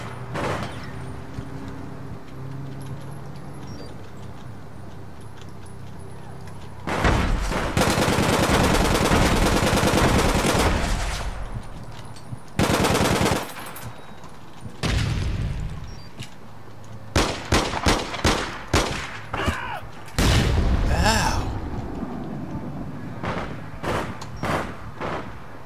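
Gunfire in the video game APB Reloaded: bursts of rapid automatic fire and single shots, loud and close, come in several clusters separated by quieter stretches of game ambience.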